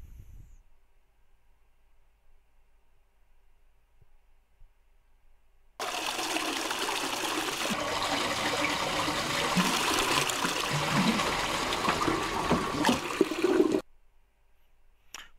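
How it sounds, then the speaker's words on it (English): A toilet flushes in a near-silent room: after several seconds of quiet a loud rushing surge of water starts abruptly, holds steadily for about eight seconds with gurgling as the tank drains and refills, then stops sharply. "You can see that the toilet was flushed fast."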